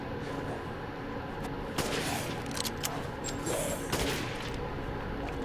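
Gunshots fired by an armored lycan in Resident Evil Village, a scattered volley of sharp cracks and bursts set against a dim, murky game background, moderately distant.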